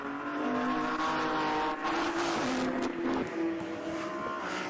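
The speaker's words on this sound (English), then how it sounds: "we should see Tim Crichton fairly shortly in the Lotus Emira" A Lotus Emira in race spec drives a circuit lap at Donington Park during a club championship race, its engine a steady loud drone with shifting pitch, continuous and close, with no voices.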